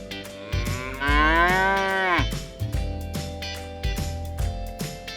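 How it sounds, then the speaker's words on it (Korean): A cow moos loudly and close, one long rising-and-falling bellow followed by shorter lower grunts, set against a plucked, rhythmic backing of children's music. "Cow."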